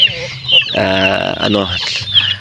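Chickens clucking in a close farmyard, a steady stream of short calls over soft background murmur.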